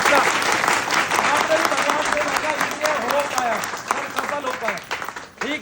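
A gathered crowd at a religious healing gathering applauds loudly and continuously, dense clapping filling the space with a steady roar while voices murmur and call out underneath.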